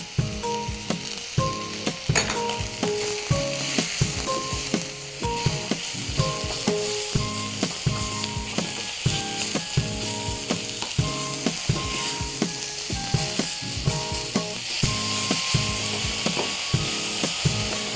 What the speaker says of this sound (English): Add a little salt so the onions can sweat faster.